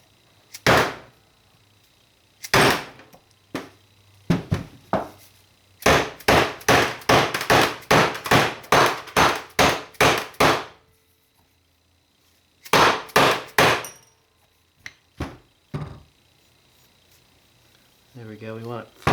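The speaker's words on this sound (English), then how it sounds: "we're gonna pound this in on a piece of wood" Repeated soft-blow hammer blows pounding a bushing into a 42RH/A500 transmission part on a piece of wood, sharp impacts in quick bursts with pauses, including a fast run of about a dozen strikes, close and loud.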